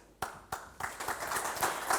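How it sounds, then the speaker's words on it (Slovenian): Applause at an award ceremony for a security prize: a few sharp separate claps first, then scattered clapping that thickens into modest, fairly quiet applause from a small crowd. "Še aplavz, še aplavz, še aplavz."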